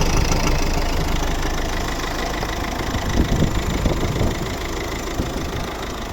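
A 2010 Volvo V50 with a 1.6 diesel engine idles close by, giving a steady, even rumble with a slight knocking texture that holds throughout, with no voices.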